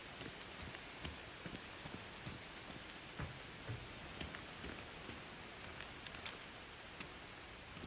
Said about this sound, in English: Ah, the pitter-patter of rain. Such a relaxing sound.